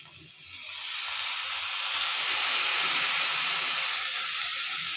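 Soy sauce hits a hot pan of pointed gourd and sizzles in a steady, broad hiss that swells and holds throughout, close and continuous with no talking.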